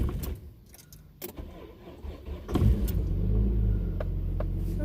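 A car engine cranks and catches near the end after clicking and rattling noises, the low rumble building up close and continuing steadily without talk.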